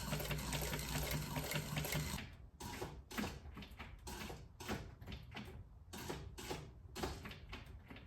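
A sewing machine stitches a rugged leather watch band with heavy T90 thread, starting with a steady run of about two seconds, then moving in short repeated bursts with brief pauses.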